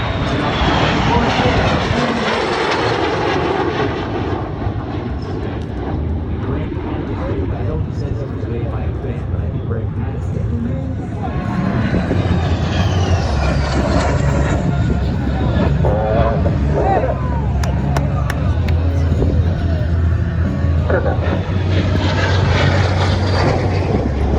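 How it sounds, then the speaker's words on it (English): A T-33 jet flying at the Miramar air show, a loud, sustained engine roar that swells and shifts as it passes, under a commentator's voice and crowd noise. "Still very impressive jet all these years later."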